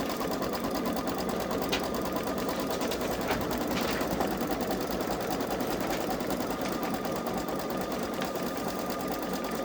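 A Babylock Solaris 3 (Vision) embroidery machine stitching a design in a hoop, with a steady, rapid mechanical whir that runs continuously at even loudness close by.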